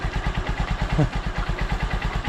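A Honda Supremo motorcycle engine idles steadily up close, its even, rapid pulsing firing rhythm holding smooth and constant throughout.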